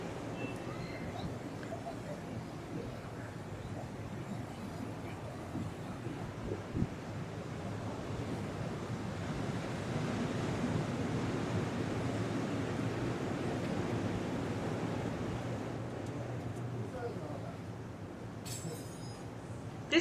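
Ocean waves wash steadily along Seminyak Beach in Bali, a continuous broad surf roar blended with wind buffeting the microphone for the whole stretch, with a faint clink near the end.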